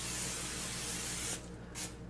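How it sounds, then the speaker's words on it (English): Cooking spray hisses from a can onto parchment paper lining a baking pan for a Swiss roll, one long continuous burst followed by a short second spritz, close and loud. "we're also going to spray our parchment paper."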